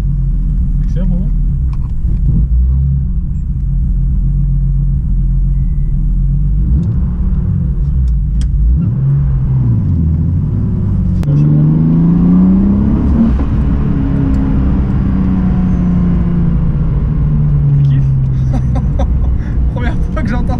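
Turbocharged BMW E36 engine droning inside the car under acceleration, a loud continuous rumble with rising and falling pitch sweeps, with people talking over it.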